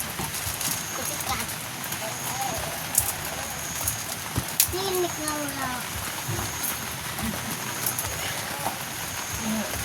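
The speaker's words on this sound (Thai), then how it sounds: "ตอนนี้ก็ฝนตกอยู่" Steady rain falls outdoors at a rural building site where a bathroom pit is being dug, a constant patter with a few sharper drops, while someone talks over it.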